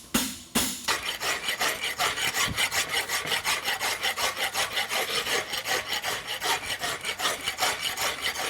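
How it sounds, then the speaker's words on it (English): A farrier's rasp scrapes lines into an egg bar horseshoe at a world championship blacksmith contest, with steady back-and-forth rasping strokes in a fast, even rhythm that carry on without a break after one brief opening stroke. "now I'll just kind of rasp my lines in it"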